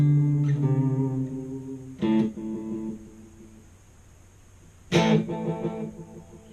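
An electric guitar played through a Catalinbread Echorec delay pedal sounds three separate plucked chords, each ringing out with a decaying echo tail, close and clear with no talk.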